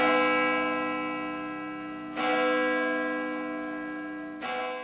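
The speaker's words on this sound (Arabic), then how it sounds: "دقت أجراس كاتدرائية القديس أنطونيوس للأقباط الكاثوليك استقبالاً لميلاد المسيح" Church bells at St. Anthony Coptic Catholic Cathedral in Egypt ringing for Christmas, three resonant strikes at a slow, even pace, each leaving a long, humming ring that fades before the next.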